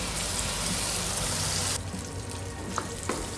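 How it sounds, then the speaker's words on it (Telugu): Amla paste frying in hot oil with turmeric for rasam, a steady dense sizzle that drops abruptly partway through and continues more softly with a few small pops. "ఉసిరికాయ పేస్ట్ వేశాక ఒకసారి ఆయిల్లో కలిపేసుకుందామండి మొత్తం అంతా కలిసేటట్టు ఆయిల్లో ఒక రెండు నిమిషాలు ఫ్రై చేసుకోవాలి"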